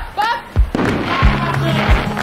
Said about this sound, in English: so many people are already throwing fireworks.